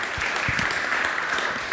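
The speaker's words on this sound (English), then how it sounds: "let's give all of our panelists and obviously our wonderful moderator a big round of applause" An audience at a VR game development panel gives a brief, even burst of applause for the panelists and moderator.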